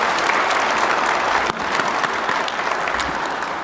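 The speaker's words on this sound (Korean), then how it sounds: "격려 박수 부탁드립니다." Audience applause of encouragement at a government aerospace strategy event, dense steady clapping from a large crowd throughout, fairly loud and alone.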